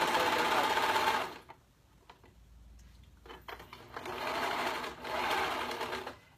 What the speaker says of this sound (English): You can do a zigzag stitch or whatever on the side.